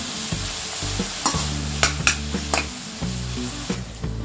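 Eggplant with salt and turmeric frying in a pan while being stirred, a steady sizzle broken by repeated scraping strokes and soft knocks of the utensil, close and alone.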